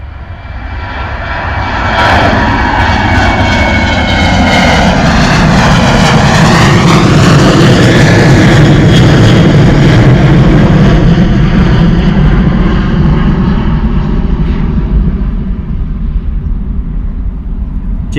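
A Jet2 Boeing 737 passes directly overhead at Bristol Airport, its loud engine roar swelling as it approaches, peaking overhead, then fading slightly as it moves away.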